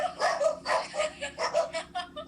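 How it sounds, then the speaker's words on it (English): A dog barks outside in a quick series of loud, close, sharp barks with short gaps between them. "the dog started barking as soon as I said that shit"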